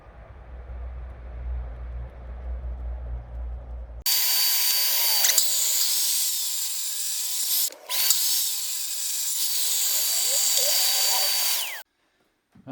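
A loud chop saw whines steadily through a cut in wood, with a brief dip partway, then stops abruptly; a low rumble of room noise precedes it.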